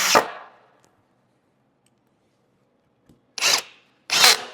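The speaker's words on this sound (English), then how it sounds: "I'm going to use 2 more screws to attach the safety rail to the vertical support that I just installed." Power drill driving screws into a wooden bed safety rail, with one short whirring burst at the start, a long quiet gap, then two more quick bursts close together near the end.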